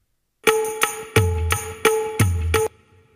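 A kendang drum track, soloed from a multitrack mix and processed with reverb and parallel compression, plays about six rhythmic strikes, some deep and booming, each ringing out briefly before the next.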